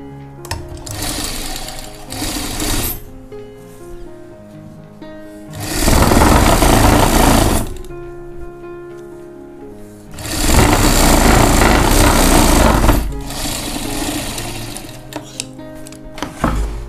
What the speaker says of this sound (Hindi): ये दबा ते इहनू मोड़ के अंदर इहते आपां सिलाई कर देणी